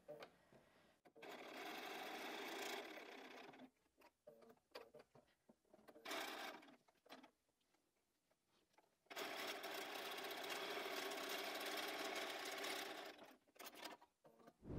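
A sewing machine stitches the final seam of a quilt block, running in a steady whirring burst, pausing with small handling clicks, then running again in a longer close, even stretch.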